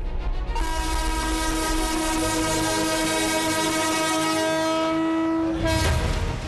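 A train on the new Beed–Ahilyanagar line in Maharashtra, India, rumbles past while its horn blares one long sustained chord, loud and close, over the steady roll of the wheels.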